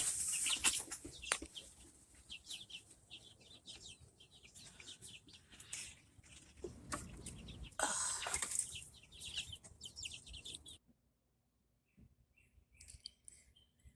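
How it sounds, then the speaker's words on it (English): Ten baby chicks nearly four weeks old, peeping and clucking in a backyard coop, a busy chorus of chirps up close that fades to quiet near the end. "They are almost 4 weeks old. They've been outside in their coop for about 2 weeks now."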